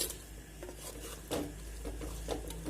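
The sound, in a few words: stirring vegetables with chilli, mint, ginger, garlic in pot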